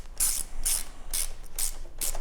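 Ratcheting wrench clicks while fixing an e-bike torque arm to the frame: five sharp bursts of metallic clicking in an even rhythm, close and loud, with no voices.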